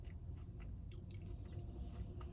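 Crunchy fried food being chewed close to the mic, quiet repeated crisp bites and crunches over a low rumbling background, with no speech.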